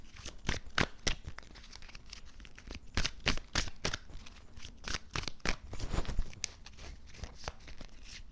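A deck of cards is shuffled during a card reading, giving a steady run of quick, crisp riffling and flicking bursts, close up and alone.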